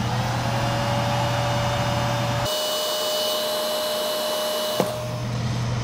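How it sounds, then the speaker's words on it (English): Heat tool running steadily while drying crazy glue on the eyes of a 1.5 squarebill crankbait, a loud continuous blowing whine with a shift in pitch partway through and a small click near the end, no talking. "then I'll heat set the eyes to get that crazy glue to dry a little bit faster"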